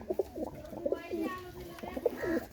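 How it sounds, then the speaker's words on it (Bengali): Pakistani Teddy pigeons coo in repeated soft, throaty phrases, close by, with brief pauses between bursts and a faint hum of background noise. "ভিউয়ার্স, এই যে আর এক সেট টেডি কবুতর আছে"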